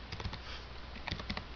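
Soft, quick keystrokes tap on a computer keyboard, a few light clicks close by over a quiet hiss, with no talking.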